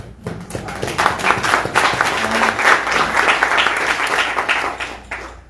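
Enthusiastic audience applause at an award ceremony, a dense burst of clapping that rises quickly and holds steady before fading out at the end.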